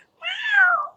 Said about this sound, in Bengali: এই বিড়ালের বাচ্চা এসেছে, বিড়ালের বাচ্চা এসেছে,